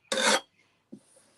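A short rasping scrape of a sanding sponge rubbing across the painted wooden surface of a table, then a pause and a fainter brief rub, close up.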